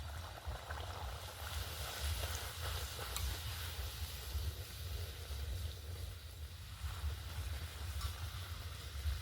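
Snacks frying in oil in a pan over a raised flame, a faint continuous sizzle and bubbling hiss with low rumble underneath, no speech.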